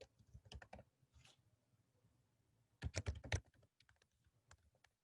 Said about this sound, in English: if I create a new request, I'll just type it out